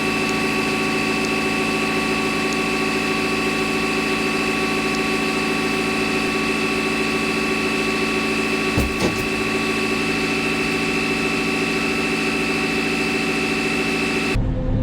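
Tractor engine running at a constant idle-like drone with a steady hum, unbroken for the full length, with a brief knock or thump partway through.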